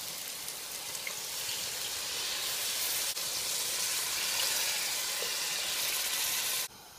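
Two glasses of water poured into a pot of cooking meatball curry, a steady broad splashing hiss that holds for nearly seven seconds before cutting off abruptly.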